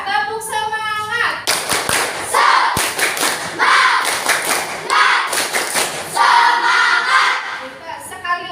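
A schoolchildren's class performs the rhythmic 'tepuk semangat' spirit clap, sharp bursts of clapping in patterned groups separated by short pauses, loud and close, with children's voices chanting and a teacher speaking between the bursts.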